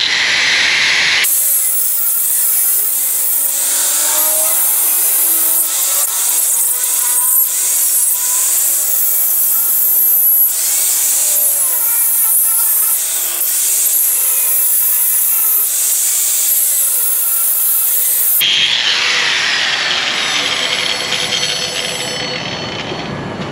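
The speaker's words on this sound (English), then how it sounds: "Where'd I put that cutoff wheel at?" A cutoff wheel cuts metal in an auto repair shop, a continuous loud, harsh grinding screech lasting over twenty seconds with shifting pitch as the wheel bites, then a brief change in tone near the end.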